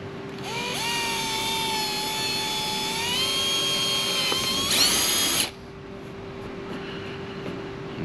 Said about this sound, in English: Now I take this drill and go smack dab.